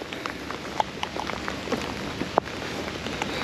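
Steady rain patters against a surface, scattered drops ticking and tapping over a constant wash of falling water.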